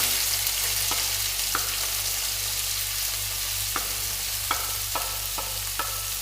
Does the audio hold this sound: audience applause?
no